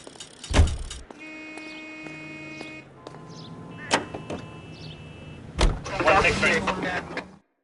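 In the 1940s-style crime game L.A. Noire, a car's sounds come through as loud door-like thumps, a low engine hum and a brief whirring, mixed with steady tones and voices talking.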